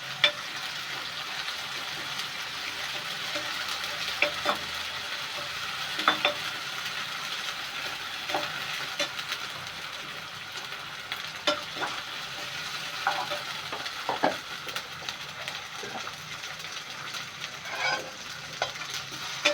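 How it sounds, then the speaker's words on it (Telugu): Ginger garlic paste fries in hot oil in a pan, making a continuous sizzle broken by repeated scrapes and taps of a spatula stirring, close and moderately loud, without speech. "ఇలా అల్లం వెల్లుల్లి చక్కగా వేగిన తర్వాత"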